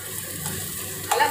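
Onions frying in a pan for a spicy chicken fry, a steady soft sizzle with occasional stirring scrapes and a louder burst of crackle near the end, with no voices.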